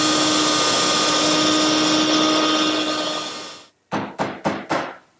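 After a workshop router winds down to silence, a straight edge clamped on a wooden workpiece is knocked over with four sharp, evenly spaced taps, close and loud.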